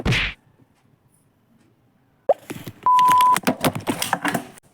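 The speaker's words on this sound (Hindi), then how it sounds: "ट्राइपॉड से फ़ोन गिर चुका है" A phone topples off a tripod and lands with a sharp clatter, a single loud impact after near silence, followed by a steady electronic tone and bursts of clicking and rustling handling noise.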